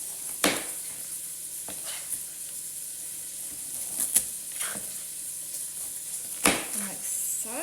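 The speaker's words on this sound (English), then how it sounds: "So while my bacon's cooking in the pan, I'm going to put some carrots in." Bacon frying in a pan gives a faint, steady sizzle, with a few sharp knocks and scrapes of kitchen work nearby.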